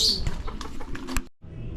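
Racing pigeons arrive at a loft after a hard race, with quick wing flaps, chirps and soft coos in close succession, then a brief gap before faint background noise resumes.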